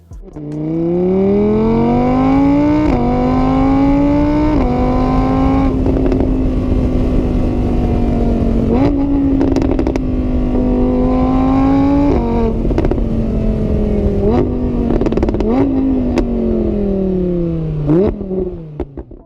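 An Audi R8's 5.2-liter V10 revs loudly and up close, its sharp engine note climbing and dropping through repeated throttle blips over about nineteen seconds with no talking.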